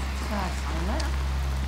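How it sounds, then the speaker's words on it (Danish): Heavy rain pours outside, a steady broadband hiss heard from indoors, with a voice talking briefly over it. "Det regner sådan set forholdsvis meget lige nu"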